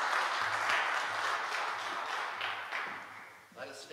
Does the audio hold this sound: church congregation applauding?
yes